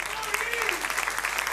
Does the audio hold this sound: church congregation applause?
yes